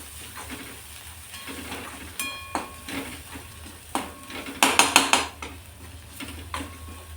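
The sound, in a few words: ginger and garlic being sautéed in a pan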